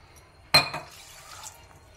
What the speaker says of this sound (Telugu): దానికి ఒక 1/2 కప్పు వాటర్ వేసుకోవాలి